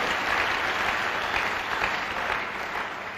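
A church congregation applauds the Lord together during a communion service, steady dense clapping sustained throughout without a break.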